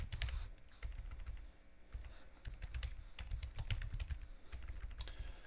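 Soft, rapid keystrokes patter on a computer keyboard in quick irregular bursts, close and fairly quiet, with no voices over them.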